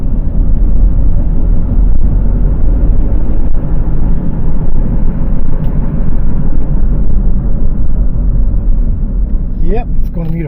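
Worn front wheel bearing on a moving vehicle, a loud continuous low droning rumble with road and wind noise throughout and a brief squeak near the end.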